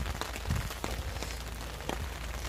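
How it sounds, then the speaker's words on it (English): Rain patters on surfaces at a riverside camp, a steady close hiss broken by scattered louder drops and taps, with no voices. "Well, the rain's here. Wasn't supposed to get here that fast."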